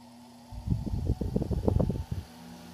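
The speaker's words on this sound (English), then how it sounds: "Has that nice little brush motor noise that goes along with it." A 1912 Westinghouse all-brass fan with a brush motor runs on first speed, producing a soft, crackly low motor whir that rises for about a second and a half before fading, heard close and alone.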